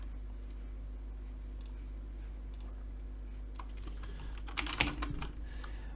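Someone typing a command on a computer keyboard: sparse, quiet key clicks that turn into a brief, denser burst of taps near the end, over a low steady hum.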